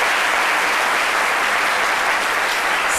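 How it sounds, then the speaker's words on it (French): Television studio audience applauding Laetitia loudly, a thick continuous roar of clapping close and even throughout. "On applaudit très fort pour Laetitia."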